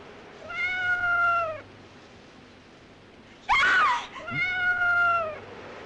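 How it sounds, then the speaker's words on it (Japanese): A kitten meows twice in clear, drawn-out cries, with a sharper, squealing call between them, close and loud against a quiet background. "ただの子猫だ。"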